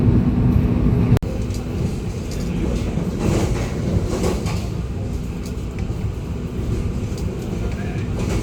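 Steady low rumble and rattle inside a moving economy-class train in Indonesia, with a sharp click near the start and a constant rushing hum underneath.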